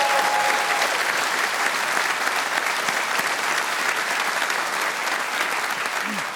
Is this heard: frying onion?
no